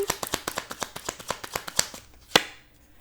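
Tarot cards being riffle-shuffled in quick, evenly spaced crisp flicks, close and dry, ending with a couple of sharper slaps as the deck is squared.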